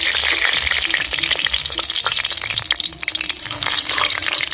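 Bay leaves frying in hot oil in a wok, a steady, loud, crackling sizzle with bright spatters, heard alone before mutton is added.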